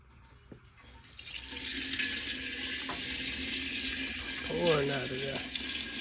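Coolant from a 2009 Pontiac G8 GT drains out of the radiator drain plug with the radiator cap removed, making a steady, close splashing pour that runs almost unbroken, with a faint voice briefly in the background.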